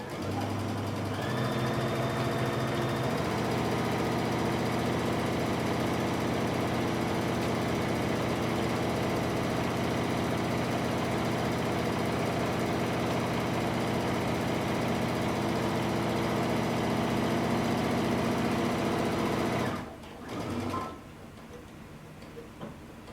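A sewing machine stitches a straight 5/8-inch seam on tunic fabric, running in a steady, fast mechanical hum with a rapid ticking rhythm for nearly twenty seconds before stopping abruptly, leaving quiet room tone.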